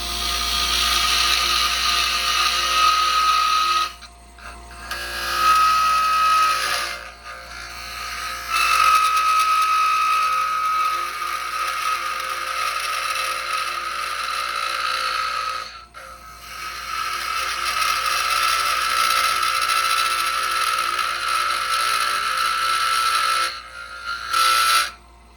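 A wood lathe spins a spindle blank for a Christmas tree while a spindle gouge cuts, giving a steady whirring hiss that comes in long passes with brief pauses between cuts.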